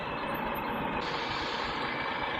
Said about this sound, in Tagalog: Sobrang traffic mga insan.